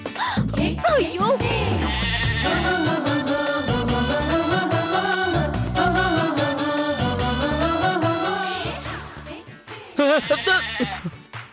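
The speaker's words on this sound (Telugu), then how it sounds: "వీళ్ళేమో ఇంకా గొర్రెలు తోలలేకపోయారు." A flock of sheep bleats loudly and close by, many overlapping quavering calls rising and falling continuously, with a brief pause before the bleating resumes.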